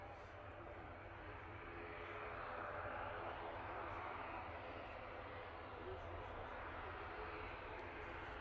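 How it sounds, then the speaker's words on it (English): An Aer Lingus propeller airliner departs Manchester Airport, its engine drone a faint, steady broadband roar that swells slightly partway through. "Got another prop for you as well"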